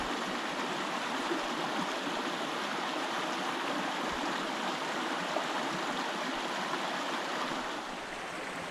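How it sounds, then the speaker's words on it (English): Small mountain creek holding native cutthroat trout, flowing with a steady, close, broadband rush and gurgle that stays even throughout, with no voices. "It's a beautiful little creek with cutthroat trout, native cutthroats in it."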